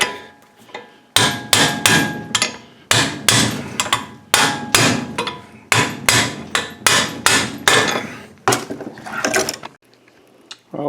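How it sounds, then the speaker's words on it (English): A hammer knocks a bearing inner race out of a motorcycle wheel, giving about a dozen loud, sharp metallic strikes in an uneven rhythm, close by and with no voices. "So I'm just going to take a hammer, knock this inner race out of here."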